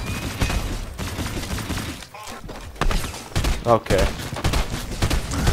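Weapons shooting in an Iron Man video game, with rapid bursts of gunfire and thumping impacts repeating throughout, loud and close, with brief talk over it.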